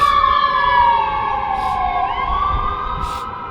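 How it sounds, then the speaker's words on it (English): An ambulance siren passing on a nearby street, a loud wailing tone that sweeps down and back up over a few seconds, heard alone without voices. "Wait for that ambulance to go by."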